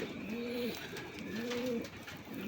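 Pigeons kept for sale give two clear, close coos, each a low rising-and-falling call, over faint background noise.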